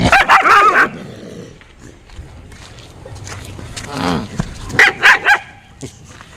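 A dog barks in short, sharp bursts near the start and again toward the end, with voices and background noise in between.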